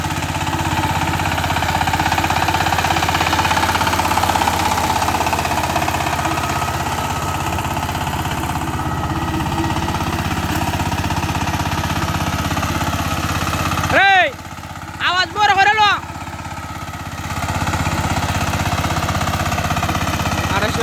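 A Saifeng 28-blade power tiller engine runs nearby with a loud, steady knocking chug. It briefly dips midway while a short wavering high tone sounds, then resumes.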